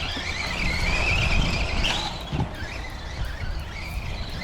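A Tamiya TT02B radio-controlled car with an upgraded motor rips around outdoors, its electric motor whining and rising in pitch as it speeds past, with tire and gravel noise underneath.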